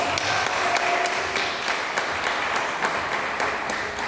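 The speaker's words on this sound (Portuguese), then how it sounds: "Você pode aclamar o Senhor aí com uma salva de palmas?" Church congregation applauding: dense, steady clapping from many hands for a few seconds, loud and continuous with no voices over it.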